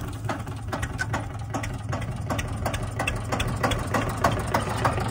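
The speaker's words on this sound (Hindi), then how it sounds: "अच्छा निगाह दा इंजन है ना" A Swaraj 855 tractor engine idles steadily up close, with rapid regular knocking pulses and a low diesel rumble throughout.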